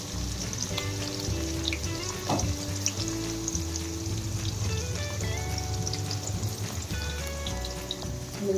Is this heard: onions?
yes